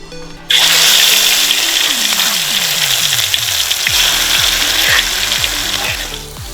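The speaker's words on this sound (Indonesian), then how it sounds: "Pastikan minyak sudah panas, lalu tumis bumbu yang sudah dihaluskan." Ground spice paste hits hot oil in a pan and bursts into a loud, steady sizzle that starts abruptly and continues throughout, with repeated falling tonal sweeps running beneath it.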